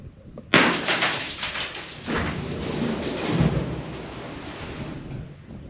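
A rock falls down a deep mine shaft and strikes water far below, first a sharp impact, then a long, hollow, echoing wash of splash and rumble fading slowly.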